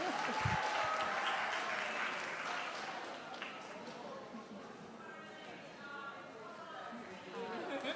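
Audience applause at a business boot camp launch event, a steady wash of clapping that slowly thins, with chatter and voices mixed in underneath.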